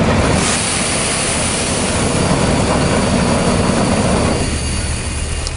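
A Bourgault 6000 air seeder runs its fan and metering auger during calibration, giving a loud, continuous rushing drone that holds steady and eases slightly near the end.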